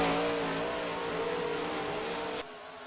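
Dirt late model race cars roar together through a heat race, a loud sustained engine drone with wavering pitch that drops off abruptly near the end.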